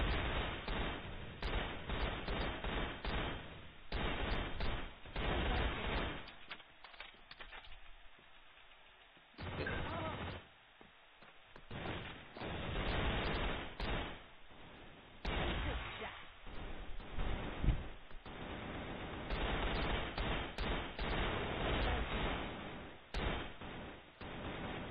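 A QBZ 03 rifle fires in a video game in rapid repeated bursts, dense crackling volleys broken by short pauses. A voice talks briefly over the shooting.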